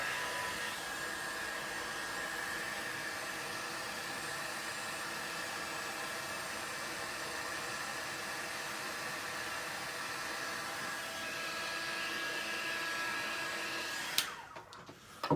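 A heat tool blows steadily and loudly for about fourteen seconds, melting embossing powder on a snowman Christmas card, then cuts off abruptly with a brief clatter at the end.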